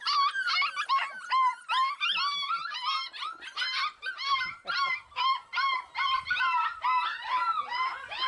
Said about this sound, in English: So yeah, Lots of dogs.